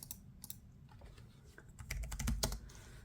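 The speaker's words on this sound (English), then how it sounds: "the soft touch keyboard doesn't make a lot of noise, but just enough so that you could hear it" Soft, quiet typing on a Microsoft Surface keyboard, a quick uneven run of muted key taps that picks up briefly toward the end, heard close and alone.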